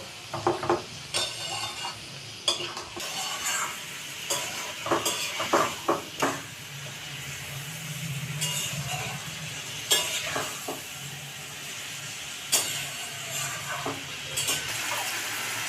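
Mutton with salt, turmeric and Kashmiri chilli powder is sautéed in a pan, a steady sizzle broken by repeated scraping and clinking strokes of a spatula against the metal, close and moderately loud.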